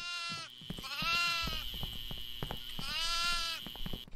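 Goats bleating close by, two long wavering bleats with a cluster of shorter calls and scuffling knocks between them, fairly loud against a quiet background.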